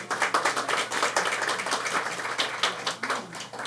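An audience claps at a lecture: steady, moderately loud applause with distinct individual claps, no talking over it.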